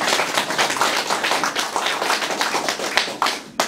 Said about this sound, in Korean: 우리 종근회장님한테 감사의 박수 한번 보내주시기 바랍니다.